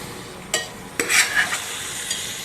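A spoon scrapes and stirs through drumstick and potato curry with chopped tomato in a pan, a few sharp clinks over a steady low sizzle.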